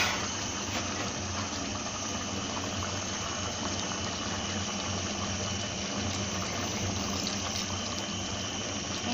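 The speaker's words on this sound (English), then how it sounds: "So I'll just add a little water to it." Water poured into a pot of Afang soup, a steady loud rushing, gushing wash that stays even and continuous throughout with no talk.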